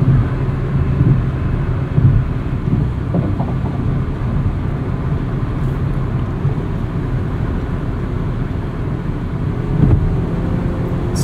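1999 Honda Civic Si cruising on the highway in fifth gear around 4,200 RPM at 75 mph, a steady engine drone blended with road and wind rumble inside the cabin, no talk.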